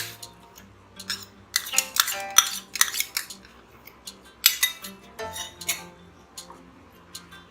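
A spoon scrapes and clinks against a metal pan while beaten curd is stirred into a spinach and fenugreek gravy, with irregular bursts of clatter and scraping close by and no talk.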